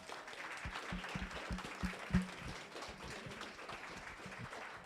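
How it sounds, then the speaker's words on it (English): A modest audience at a retail business talk gives a round of applause, a fairly quiet, thin patter of clapping from a smaller group with a few closer, louder claps standing out. "Can we give them a round of applause?"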